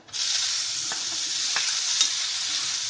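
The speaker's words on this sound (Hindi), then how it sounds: "इसको थोड़ा सा मिला के अब इसमें डाल देंगे टमाटर।" Tomatoes drop into a pan of frying spices, bringing a bright, even sizzle that starts sharply and holds steady, with a few soft clicks of stirring and no talking.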